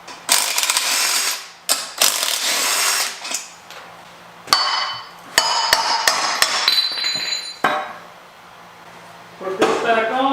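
A ratchet and other hand tools work on the alternator of a turbocharged LS-swapped Mustang, giving irregular bursts of clicking and clanking with sharp metallic knocks. The bursts are close and are separated by short gaps.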